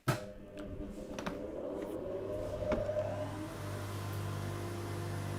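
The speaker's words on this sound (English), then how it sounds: "the reason I turn the dust extractor on first, it has a very high start-up ampage" A workshop dust extractor with a high start-up current switches on, its motor spinning up with a steady mechanical whine and a broad roar that holds at a constant level until the end, with no voices.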